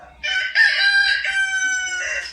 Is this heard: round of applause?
no